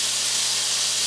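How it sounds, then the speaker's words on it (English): Garlic sizzles in hot oil for a stir-fry, a steady bright hiss with a dense crackle close to the pan, no voices. "The garlic is reacting, which means the oil is..."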